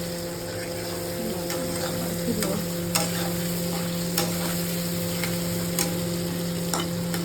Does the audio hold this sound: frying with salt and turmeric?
yes